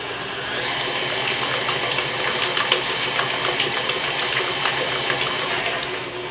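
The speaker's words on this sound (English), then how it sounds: "so now we're going to mix in the sour cream" Mixer blending sour cream into Irish soda bread dough, a continuous whirring churn with a faint rhythmic patter, heard close and alone.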